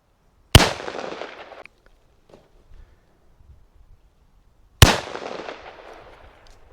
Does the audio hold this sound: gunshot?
yes